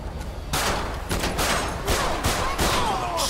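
Rapid, loud bursts of automatic gunfire in GTA 5 during a snowy sheriff's patrol shootout, with repeated volleys packed close together across the whole stretch.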